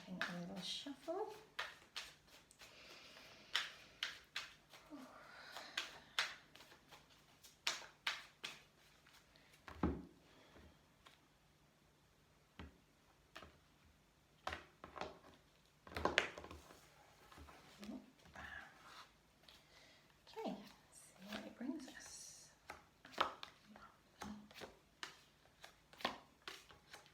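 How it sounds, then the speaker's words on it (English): Tarot cards shuffled by hand indoors, soft irregular riffles and taps in short bursts spread across the stretch, with someone speaking quietly between them. "Just having a little shuffle."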